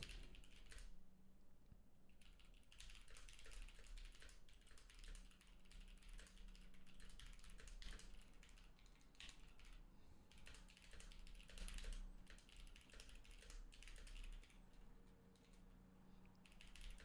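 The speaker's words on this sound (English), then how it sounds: "now type it in the Discord" Rapid, continuous typing on a computer keyboard runs close and fairly quiet for over a quarter minute, with uneven bursts of clattering keystrokes and brief pauses, alone without speech.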